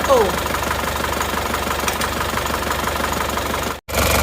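An Isuzu Panther diesel engine idles roughly, with cylinder 1 misfiring: a steady, close, uneven knocking rumble that briefly cuts out near the end, with a voice talking over it.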